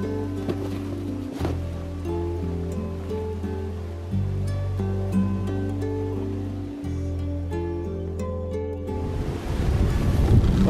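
Fjord water surges and washes over snow-covered shoreline rocks, a steady loud rush with wind buffeting the microphone and a louder splashing swell at the end.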